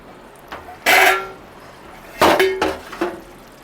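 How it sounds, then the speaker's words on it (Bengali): A metal lid lifted off a cooking pot of vegetarian Bengali aloo dum, a few close, bright clanks and clinks, one early, then a cluster of three a moment later. "5 মিনিট হয়ে গেছে, আমি ঢাকাটা খুলে দেখছি।"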